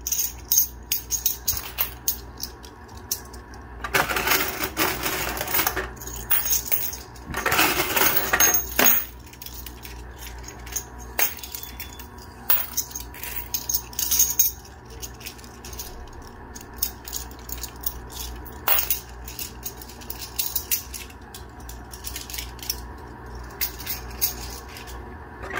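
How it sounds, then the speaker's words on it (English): Silver coins clink and jingle in bursts as they are sifted by hand, with louder rattling flurries between quieter scattered clicks. "Lots of silver in my hand, trying to shuffle through."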